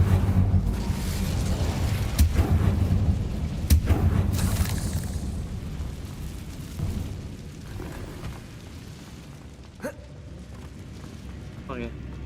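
An Incendio fire spell erupts in the Hogwarts Legacy game as a long, rolling burst of flame and rumble that slowly fades, mixed with a speaking voice and a couple of brief sharp accents.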